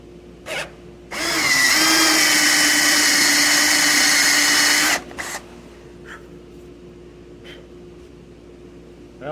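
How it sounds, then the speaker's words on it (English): A power drill whirs steadily for about four seconds, loud and close, drilling partway into a wooden napkin holder, then stops; faint clicks and handling noises follow in a quiet room. "Definitely don't want to drill through the whole thing."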